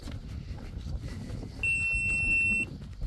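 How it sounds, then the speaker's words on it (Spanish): A GoPro camera gives a single steady electronic low-battery beep lasting about a second, clear over outdoor wind and ambient noise during a walk near a river bridge. "Ese pitido que habéis oído es que la GoPro se ha acabado"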